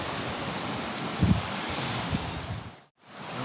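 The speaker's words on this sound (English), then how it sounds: "These are nice beginner waves." Ocean waves wash onto the beach at Khao Takiab, Thailand in a continuous steady surf roar, with gusts of wind buffeting the microphone and a brief dropout near the end.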